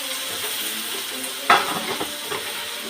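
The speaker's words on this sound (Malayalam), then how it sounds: "പച്ചമുളക് ഇഞ്ചി കൂടെ വഴറ്റാം" Ginger and green chilli sautéing in a pan, a moderate sizzle with a sharp spatula clatter midway and a few softer scrapes after, nobody speaking.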